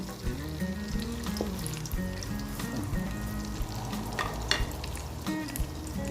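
Meatballs fry in a pan, sizzling steadily close by with crackling pops and occasional scraping or stirring sounds throughout, and no one speaks.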